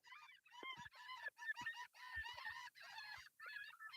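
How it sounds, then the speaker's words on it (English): Gulls calling in a busy flock, loud honking cries repeating in quick overlapping bursts with short gaps, close by and with no talking. "Seagulls they are."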